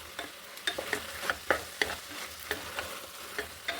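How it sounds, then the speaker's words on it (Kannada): Tomatoes frying in a pan for basmati veg pulao, with a steady low sizzle and repeated clinks and scrapes from a spoon stirring at an uneven rhythm, close up and with no talking. "ಇವಾಗ ಟೊಮೊಟೊ ಹಣ್ಣು ಹಾಕ್ಕೊತೀನಿ."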